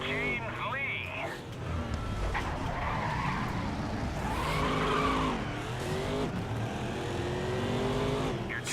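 Race car in the game GRiD skidding sideways and spinning out after hitting a barrier: sustained tire squeal and engine roar, loud and close, with a voice talking over it.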